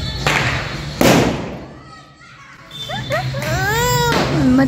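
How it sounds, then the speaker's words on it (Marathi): Diwali firecrackers bursting outdoors at night in Indore, with two loud close thumps followed by a crackling, whistling burst, while a child cries and people talk nearby. "तुम्ही फटाक्यांचा आवाज ऐकलाच ना, किती आता सगळीकडे फटाके फोडत आहे"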